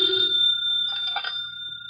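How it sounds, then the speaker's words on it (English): A telephone bell rings in an old-time radio detective drama, a loud, close, continuous electric ring holding steady through the moment, with no voices over it. "Should never ignore a phone call."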